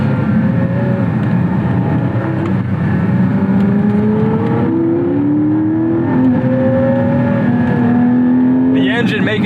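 A Porsche Spyder sports car's engine revs steadily upward and loud from inside the cabin, pitch climbing through the gears with a brief rise near the end, a continuous mechanical roar throughout.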